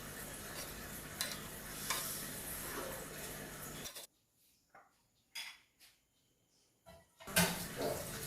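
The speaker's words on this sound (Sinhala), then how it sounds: "දැන් මම මේ ටික හොඳට කලවම් කර ගන්නවා." Tempered chickpeas stirred in a pan: a few seconds of steady sizzling and scraping, then near silence broken by short bursts of spoon-on-pan scraping, close and fairly quiet, no speech.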